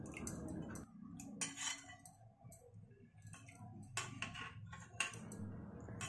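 A spoon mixes sugar into curd in a bowl, clinking and tapping against the sides in quick irregular strokes with soft wet stirring between them, close and quiet.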